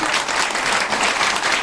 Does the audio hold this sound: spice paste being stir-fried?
no